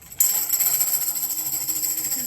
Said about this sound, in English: I'm not beating that tambourine today.